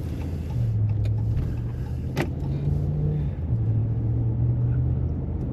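A car drives through the built-up part of Southwest Harbor on Mount Desert Island, Maine, in winter, its engine and tyre rumble low and steady throughout with a brief sharp click midway, no voices.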